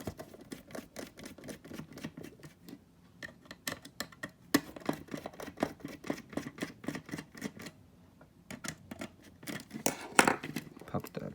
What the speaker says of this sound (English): I'm gonna remove that with the two Phillips screws.